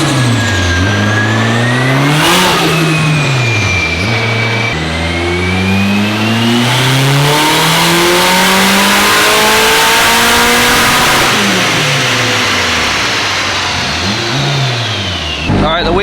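A Nissan S13 revs loudly on a dyno during its first pull, the engine note rising steadily and falling back in long sweeping climbs, with a constant intense roar and a person talking briefly over it.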